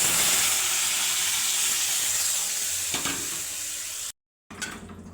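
Steady loud sizzling of cooked chakvat greens added to hot garlic tempering oil, a bright continuous hiss that cuts off abruptly near the end, then returns briefly.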